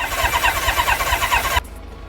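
A 40-year-old motorcycle engine turns over and catches, a loud, rough pulsing run lasting over a second before cutting off abruptly into quiet.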